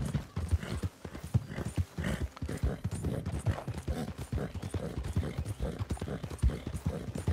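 Horse hooves clip-clop in a steady, brisk rhythm in the video game Red Dead Redemption 2, close and clear, with a faint mechanical creak underneath and no talking.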